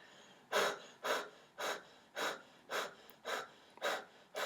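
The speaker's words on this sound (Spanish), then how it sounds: "Voy a sujetar el brazo del paciente y le voy a pedir que haga jadeos." A patient pants rhythmically during an anatomy palpation practice, about eight quick, even breaths in a row, close and fairly soft, with no speech.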